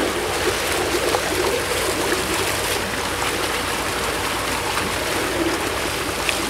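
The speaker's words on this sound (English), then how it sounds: "That hot water and the high pressure really make the difference." High-pressure hot water blasting into a frozen culvert, a loud continuous hissing rush of spray and churning water that holds steady throughout.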